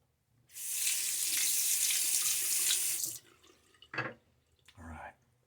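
A bathroom tap runs steadily for about two and a half seconds while a safety razor is rinsed mid-shave, followed by a couple of short splashes and drips in the sink.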